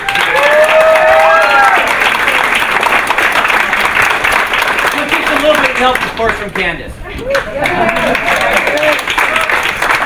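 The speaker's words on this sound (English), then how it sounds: "I think we should give Aaron and Holman a big round of applause" Evening audience at a college science event gives two presenters a loud, sustained round of applause with cheering, while someone talks over the clapping throughout.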